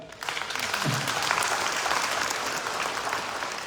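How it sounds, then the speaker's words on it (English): Audience applause at a cultural program, a dense, steady wash of many hands clapping that swells quickly and holds loud for several seconds. "See, you're clapping as if that's a big thing."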